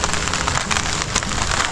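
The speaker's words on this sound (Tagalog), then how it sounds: "Lakas-lakas yung naging ulan ah." Heavy rain pours down in a dense, steady roar that fills the whole moment without a break, close and loud, with no voices.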